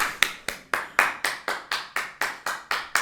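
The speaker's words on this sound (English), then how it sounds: "Elijah, let's cheer." A small group claps in a slow, even rhythm, about a dozen sharp, close hand claps spaced roughly evenly, with no cheering voices audible.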